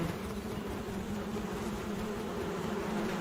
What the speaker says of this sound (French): cette femelle fait vrombir ses ailes pour chasser les abeilles qui s'entêtent à défendre leur production